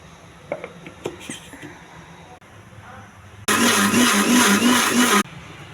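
A mixie grinder whirs loudly through one steady burst of about two seconds as it grinds cooled cooked tomatoes for chutney in its jar, after a stretch of quieter clinks and handling.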